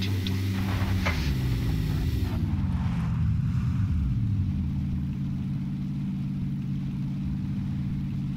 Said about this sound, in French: Je vais plus vite avec la moto.